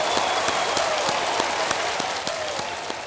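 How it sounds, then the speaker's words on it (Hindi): Audience applause in a TV quiz show studio, a dense steady wash of clapping from a large crowd lasting throughout, loud and continuous with faint tonal music beneath. "तालियां बज जाएं उनके लिए।"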